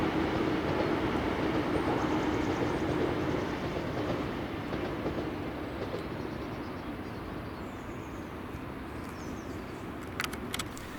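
A ScotRail train of two class 320 units runs past on the Motherwell Viaduct, a steady distant rumble with clickety-clack that slowly fades, with faint bird calls near the end.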